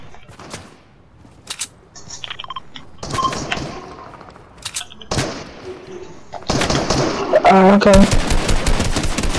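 Video game gunfire from somebody shooting, bursts of rapid machine-gun shots that build to a loud, dense barrage toward the end, with players talking briefly over it.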